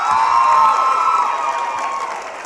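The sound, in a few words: audience clapping and cheering for John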